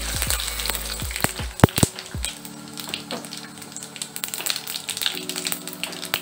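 Dried chilli, bay leaf and whole cumin hit hot oil after prawns are fried, giving a crackling sizzle with sharp spatter pops and a few metallic taps of a utensil on the pan, close and unvoiced.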